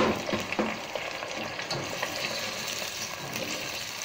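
Ginger garlic paste frying with potatoes and a splash of water in a pan for aloo gosht salan, giving a steady, close sizzle with soft stirring scrapes throughout and no voices.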